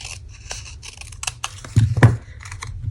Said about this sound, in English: I think we're going to cut that down just a tad